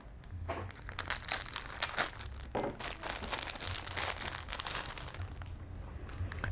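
Plastic bag of parts for an AFV Club Australian M113A1 armoured personnel carrier model kit with Cadillac Gage T50 turret being cut and torn open, giving close, continuous crinkling and rustling with a few sharper tearing bursts.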